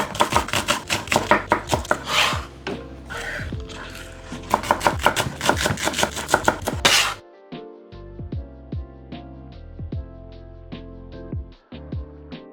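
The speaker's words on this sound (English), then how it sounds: "Let's cut this on a bias." A knife chops chicken teriyaki ingredients on a bias against a cutting board, with brisk rapid strokes for several seconds, then a slower, steady run of evenly spaced single cuts, close and clear with no talking.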